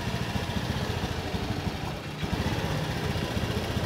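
A Honda Beat or Vario fuel-injected scooter idles unsteadily with an IACV sensor fault, a close, continuous, pulsing engine putter that sags and dips briefly midway as if about to stall.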